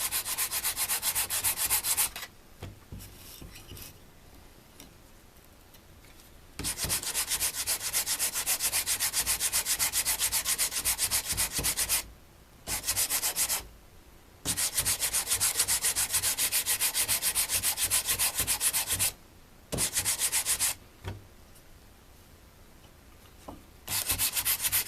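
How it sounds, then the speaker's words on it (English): A rusty sashimi knife blade and wooden handle are rubbed with coarse and then fine sandpaper, loud steady scratchy strokes in long bursts separated by short pauses, with no talking. "started with a coarse sandpaper on the blade and the handle, and then got a very fine sandpaper on the blade and the handle"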